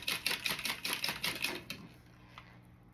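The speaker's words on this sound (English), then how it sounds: "I'm gonna just whisk that a little bit together." Mini whisk rapidly beating Greek salad dressing in a small bowl, a quick run of close, light ticking clicks for about a second and a half, then slowing to a few scattered taps before going quiet.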